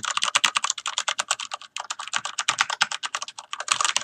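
Rapid, crisp keyboard clicks patter continuously up close, a brisk stream of keystrokes with one brief pause.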